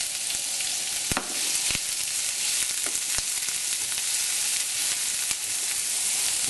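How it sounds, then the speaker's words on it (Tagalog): Red onion and garlic sauté in hot oil for pork afritada, giving a continuous loud sizzle broken by occasional sharp clicks of stirring. "ilalagay na natin yung sibuyas at yung bawang at igigisa na natin ito"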